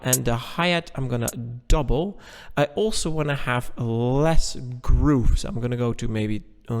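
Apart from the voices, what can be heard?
None of the usual background noises is heard.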